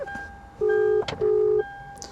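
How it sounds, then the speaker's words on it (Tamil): Phone tones on a call: two long, steady, loud beeps separated by a short pause, with faint background noise. "அடிப்போம் ஃபோன் அவருக்கு."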